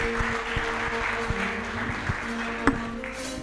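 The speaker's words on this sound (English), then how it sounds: "A round of applause for Janette." Applause at the Ladha za Africa award ceremony, with a crowd clapping steadily in the background while sharp, regular knocks and a low electrical hum run through the room.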